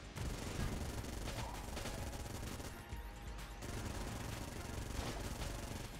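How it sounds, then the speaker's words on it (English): Rapid, continuous gunfire from flak bullets in Enter the Gungeon, a dense, steady barrage of overlapping shots and crackles that never lets up. "you know what's making this work okay? Flak bullets."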